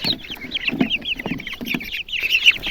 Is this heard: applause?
no